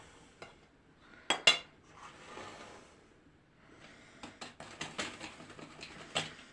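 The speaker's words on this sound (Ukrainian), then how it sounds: "Половину муки ставимо перемішуємо, потім другу половину." A spoon stirring flour into a pourable pie batter in a bowl, giving quiet scraping swirls broken by a few sharp clinks against the bowl's side, close and without talk.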